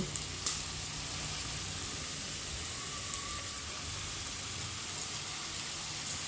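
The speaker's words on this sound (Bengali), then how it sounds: "দেখো আলু আর পেঁপেটা ভালো করে ভেজে নিয়েছি, সুন্দর করেই ভাজা হয়ে গেছে।" Potatoes and papaya fry in oil in a pan, giving a steady, even sizzle that hisses like light rain, with a few faint clicks from the pan along the way.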